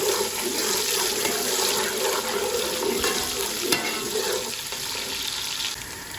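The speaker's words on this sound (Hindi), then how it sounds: "घी हमारा गर्म हो चुका है। अब हम इसमें डालूंगा प्याज। बिस्मिल्लाहिर्रहमानिर्रहीम। और प्याजों को अच्छी तरह से हम फ्राई करेंगे सुनहरा ब्राउन आने तक।" Onions frying in hot ghee in a pan for a chicken and pumpkin curry, a loud, steady, close sizzle with occasional stirring scrapes.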